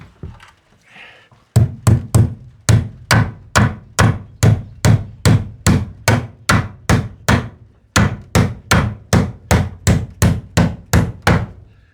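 A hammer drives nails into wooden wall framing on an off-grid solar shed, a long series of loud, sharp whacks at a steady, brisk pace with a short pause midway, close by and with no talk.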